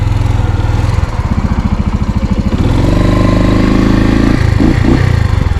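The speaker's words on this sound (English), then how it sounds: "Boy, the bike sounds great." Suzuki TU250X motorcycle running while ridden, its single-cylinder engine thumping steadily and loud up close, pitch rising and shifting as it accelerates through gears, with no talk.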